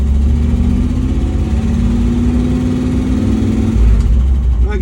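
An old vehicle called Stumpy, its engine running loud and close as it pulls away, a steady low rumble with a rising drone, then a shift in pitch and a heavier burst toward the end.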